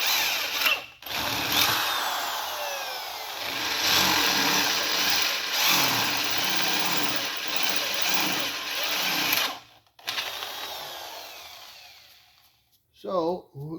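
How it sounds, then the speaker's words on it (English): A power drill bores through the thin water jacket wall of a cast iron 331 Hemi engine block during crack repair, a sustained whining grind with two brief pauses, close and loud, followed by a short burst of speech. "This jacket's fairly thin, so you know it's not going to take much to drill through it."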